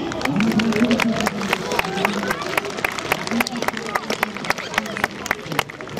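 A crowd at a stadium opening ceremony gives a sustained ovation, dense clapping and cheering throughout, with an announcer's voice over the applause.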